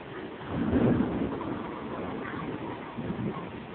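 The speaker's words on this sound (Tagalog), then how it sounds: "Mababasa ka dyan ng ulan." Steady rain patters and hisses with a low rumble swelling near the start, like distant thunder under the downpour.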